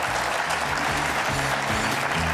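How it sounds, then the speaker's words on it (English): A live studio audience at a morning show breaks into a dense, even round of applause that holds steady throughout, with faint voices underneath. "How about a big round of applause"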